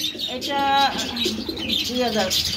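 Danish pigeons, including a red-colored bird, coo in low repeated throaty phrases close by, two or three rolling calls overlapping, with people talking nearby.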